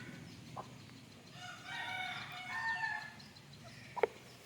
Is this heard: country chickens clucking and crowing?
yes